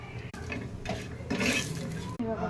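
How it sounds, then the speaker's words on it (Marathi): Grated coconut roasting with a little oil in a pan, stirred steadily with a spoon scraping against the metal under a soft sizzle, close and fairly quiet. "खोबरं भाजून घेऊया थोडंसं खोबऱ्यात तेल टाकून घेऊया"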